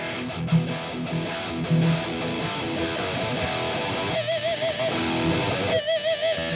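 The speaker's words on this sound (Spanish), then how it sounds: "Pongo un canal con distorsión." Electric guitar played through the distortion channel of a NUX MG30 multi-effects unit, a sustained, gritty tone with picked notes and a wobbling wah-like sweep near the end, loud and alone.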